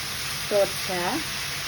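Steady close-up sizzling of giniling na torta, a Filipino ground meat omelette, frying in a pan, with a voice speaking briefly over the constant hiss.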